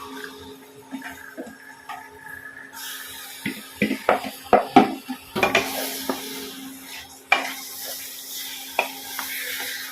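Marinated chicken drops into a hot pan and starts sizzling, followed by a quick run of sharp metal scrapes and taps from stirring, then a steadier hiss of frying, close up with no talk.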